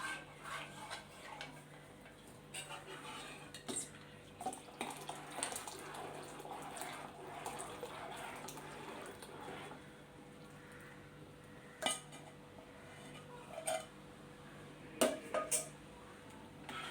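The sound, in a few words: stirring a mixture in a pot before turning on the flame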